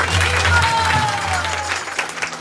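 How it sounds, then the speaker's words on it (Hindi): Loud clapping from a gathered audience of devotees at a spiritual gathering, a dense steady patter of hands under a low hum, holding throughout. "जोरदार तालियां।"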